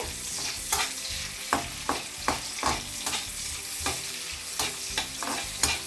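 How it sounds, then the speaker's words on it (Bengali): A medium-size chopped onion fries in hot oil under constant sizzle, broken by regular scraping stirs about twice a second that stand out crisply and close. "এখানে নিয়েছি মিডিয়াম সাইজের একটা পেঁয়াজ চপ করে নিয়েছিলাম, সেটা দিয়ে দিলাম। একটু নেড়ে চেড়ে দিব।"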